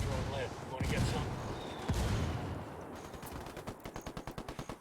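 Gunfire in the Ghost Recon Wildlands video game: bursts and single shots over a busy mix, ending in a rapid, evenly spaced automatic volley, fairly quiet overall.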